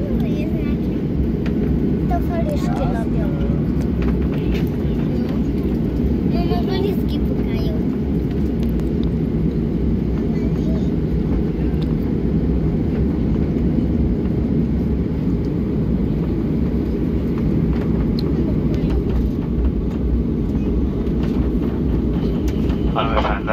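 Cabin of a passenger airplane taxiing toward takeoff on a trip to Turkey: a steady, loud low-frequency engine and rolling rumble fills the whole stretch, with faint cabin chatter and small clatters over it.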